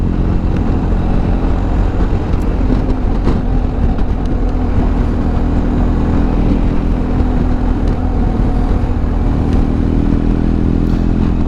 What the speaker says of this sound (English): go and grab a coffee and just take a ride on the bike